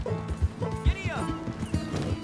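A horse gallops in Red Dead Redemption 2, its hoofbeats thudding in a quick uneven rhythm with a short whinny in the middle, loud and close.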